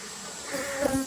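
Honeybees buzz steadily around an open beehive, a close, continuous drone that swells slightly toward the end, with no talking.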